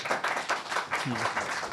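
Steady applause from a crowd, a dense wash of clapping throughout, with a voice briefly audible underneath.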